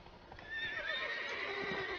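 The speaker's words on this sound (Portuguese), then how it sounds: "Ó, mais uma vez o cavalo me tacou pra fora, hein?" Horse neighing with hoofbeats in the video game The Witcher 3, a black horse; a loud, sustained whinny rises after half a second and carries on over steady clip-clop to the end, with no voices.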